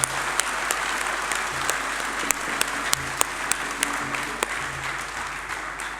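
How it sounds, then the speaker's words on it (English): A graduation ceremony crowd gives a big, sustained round of applause for graduating students, dense, even clapping with a few sharper individual claps standing out. "can we just give a big round of applause for all our graduates or completing students?"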